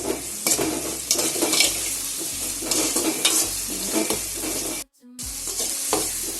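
Tomatoes sizzling in a pan of fried onions, a loud steady frying hiss broken by rhythmic scraping and stirring strokes, with a short gap near the end and no talking.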